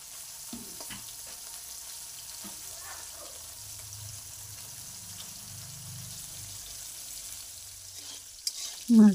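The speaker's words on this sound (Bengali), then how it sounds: "মাছগুলো আমার ভেজে নেওয়া হয়ে গিয়েছে" Fish fry in mustard oil in a wok, a soft steady sizzle low in the background with occasional stirring clinks, ending in a louder clatter.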